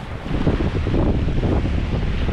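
Strong wind buffets the microphone in a constant roar at a seaside fishing spot, with the low rumble of sea and surf underneath.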